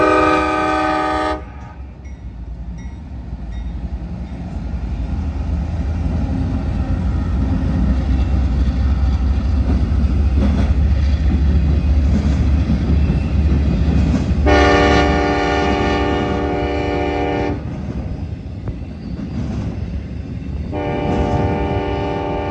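A westbound CSX intermodal freight train, I-009, rumbles past loudly in northern Ohio, its rolling roar continuous. Its horn blares in long blasts at the start, near the middle and again toward the end.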